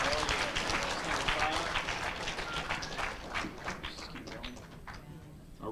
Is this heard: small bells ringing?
no